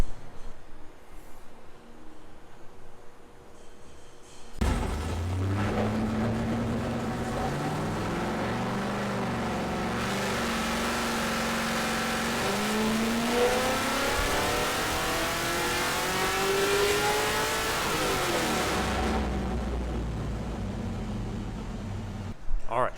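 An LS V8 swapped into a budget-built car roars under load on a dyno, rising from idle into a long, loud, climbing wide-open pull of nearly fifteen seconds before cutting off, with people talking around it.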